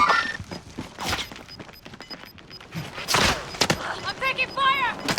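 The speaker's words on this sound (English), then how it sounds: "I'm taking fire!" Video game gunfire, scattered sharp shots and impacts in uneven bursts, near and fairly loud, mixed with thuds while radio-style voices talk over the fighting.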